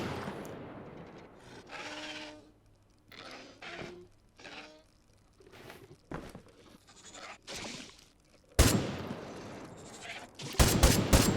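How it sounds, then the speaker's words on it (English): Sharp bursts of gunfire from the bulldog gun in the survival game Miscreated, loud cracks near the end following quieter stretches of talk-like sound and rustling. "This is of course a new bulldog gun."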